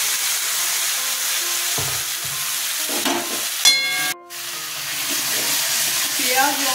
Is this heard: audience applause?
no